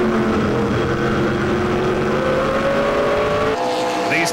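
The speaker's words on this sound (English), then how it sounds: "These cars make a fantastic sound around this racetrack." Loud, continuous roar of race car engines at the 2011 Velocity Prairie Thunder race, pitch rising as cars accelerate around a track, with a sharp change near the end.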